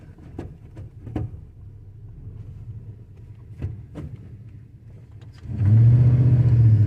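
A high-mileage half-ton pickup truck accelerates hard in second gear, its engine note swelling into a loud, sustained drone toward the end after a stretch of quieter driving with a few clicks and knocks.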